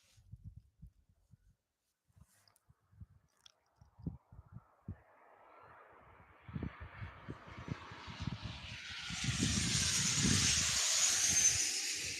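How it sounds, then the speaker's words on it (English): A Southwest Airlines Boeing 737-700 arrives overhead, its jet roar and hiss building from faint to a loud, broad rush in the final seconds, with scattered knocks and thumps nearby early on. "Southwest Airlines inbound 737-700 from Sacramento."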